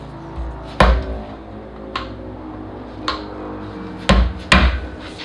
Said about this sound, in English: Chisel and a hammer will go far.